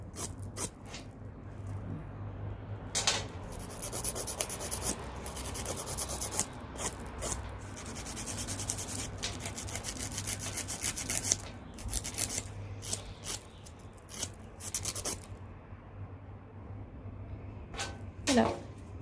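A nail file rasps over gel nails in quick, close back-and-forth strokes, a steady scratchy rhythm that runs for most of the stretch before a brief pause and a few final strokes.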